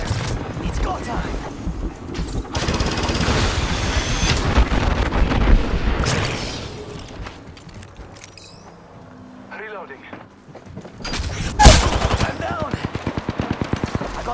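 Automatic gunfire from Apex Legends in bursts, loud and dense early on, fading to quieter shots before a sharp blast and a final rapid string of rounds, with game sounds mixed in.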